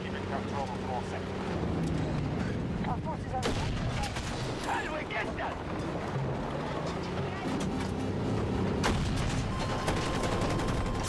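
Rapid gunfire from Battlefield 6 gameplay, loud and busy with repeated sharp bursts running throughout, under excited talking voices.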